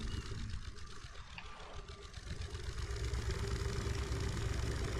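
A low boat engine in the video game The Sinking City drones steadily, a continuous rumbling hum that builds slightly louder toward the end, with no talking.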